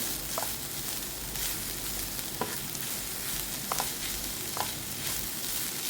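Coconut chutney mixture stirred in a pan while its moisture cooks off, a continuous soft sizzle with a spoon scraping through it every second or so, close and steady, no voices.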